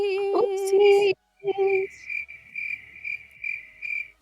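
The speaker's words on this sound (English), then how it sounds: "Do the cricket noises come through?" Crickets chirp in regular bursts, a bright high trill pulsing roughly twice a second, preceded by a few brief whistled or sung tones before the insect rhythm continues alone.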